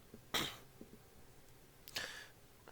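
Two short, faint coughs, spaced apart, over a quiet background with light shuffling.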